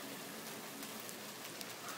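Steady rainstorm pounding down with possible hail mixed in, a dense continuous hiss with scattered sharper pattering impacts, moderately loud and unbroken throughout.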